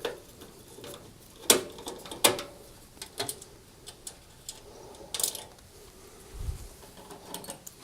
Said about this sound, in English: I can now undo these 2 screws to release the top